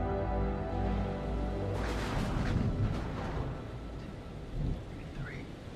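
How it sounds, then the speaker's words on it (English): Rolling thunder rumbles under steady rain during a storm at sea in the Man of Medan video game, a low, heavy swell that peaks and fades over several seconds. "Storm's 8 miles away."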